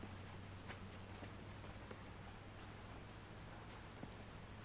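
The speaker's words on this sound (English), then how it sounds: "When did it start raining?" Rain falling in the video game Call of the Sea, a faint, steady patter of drops on surfaces with a few sharper ticks scattered through, no voices.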